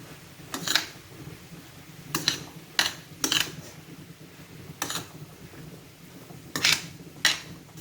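Seasoned steak and eggs being stirred in a pan with a utensil, giving several sharp scraping clinks in irregular bursts over a low, quiet background, close and fairly loud.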